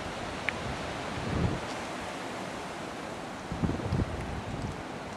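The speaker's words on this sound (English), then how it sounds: "So that's so all the wind you can probably hear around this area." Strong, steady wind from Hurricane Ian roars across the microphone in a broad, continuous rush, with a few heavier gusts swelling near the end and no voices.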